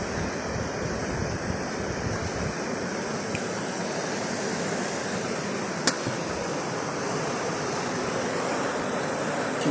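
A mountain river called Tentek, fed by clean snowmelt, rushes down near Shymbulak village in Alakol district, making a steady, dense roar of flowing water that stays constant throughout with no voices.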